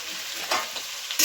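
Chicken with spices frying in a pan, a close steady sizzle with a few louder stirring scrapes breaking through.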